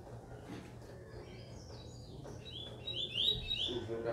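A coleiro songbird sings during a bird singing competition, with bright, quick chirping phrases that grow louder toward the end over faint background noise.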